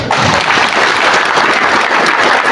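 A hall audience at an Indonesian organization's gathering bursts into loud, dense applause, many hands clapping in a steady close wash with no talk over it.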